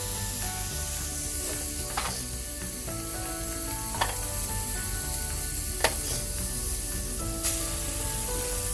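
Burger patties, meant for a stuffed bacon cheddar cheese burger, sizzling steadily in a pan, a continuous hiss with occasional clicks and small taps of utensils.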